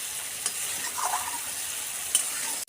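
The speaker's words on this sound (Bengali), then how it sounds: "সুন্দরভাবে মশলাটা আমি কষিয়ে নেব।" Spice masala with a pinch of sugar sizzles steadily as it is stirred and fried in oil in a pan, a constant close crackle with occasional scrapes and no talk.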